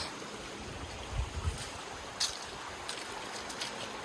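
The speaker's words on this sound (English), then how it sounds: "Just a little creaky creek." A small creek trickles and gurgles steadily in the background, with a few faint knocks and splashes, no voices.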